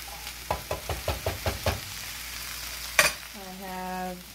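Tomato sauce goes into a sizzling sausage mix in a pan, starting with a quick series of scraping, stirring knocks, then a sharp clatter and a steady frying hiss that continues to the end.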